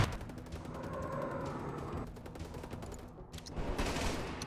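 Rapid bursts of cannon fire crackle in the video game Halo, dense repeated shots with a brief lull near the end, moderately distant.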